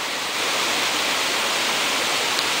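The Araguari River rushes below the Gurita waterfall as a loud, dense, unbroken roar of falling and flowing water, close and steady throughout with no voices.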